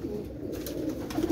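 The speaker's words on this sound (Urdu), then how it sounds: "کبوتر بہت زیادہ ہیں، کچھ چند کبوتروں کا آپ کو شوق کروا رہے ہیں۔" Pigeons coo in a steady, overlapping low murmur close by, several birds calling continuously with no talking.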